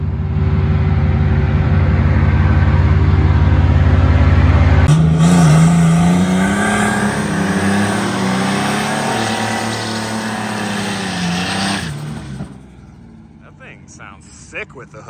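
A turbocharged 4.3 V6 truck with the hood off revs hard at a dragstrip, a loud low engine drone that jumps to a higher pitched rising rev before cutting off into turbo flutter and fading, with a voice talking over it.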